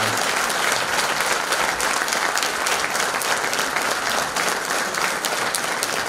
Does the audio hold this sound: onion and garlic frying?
no